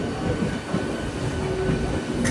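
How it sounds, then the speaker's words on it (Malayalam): A train arriving at Howrah Junction rolls in with a low, steady rumble and a faint thin squeal of wheels, heard close by without any voices. "സ്റ്റേഷനിലേക്ക് ഇതാ ട്രെയിൻ എത്തുകയാണ്"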